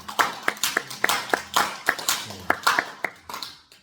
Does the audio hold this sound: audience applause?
yes